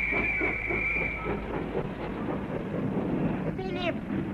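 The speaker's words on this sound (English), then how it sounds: "I went to the arrival platform of Victoria to meet the boat train." A boat train pulls in at the arrival platform of Victoria station, London, with rumbling wheels and hissing. A high squeal fades early, a short brake screech sounds near the end, and a voice talks over the station noise.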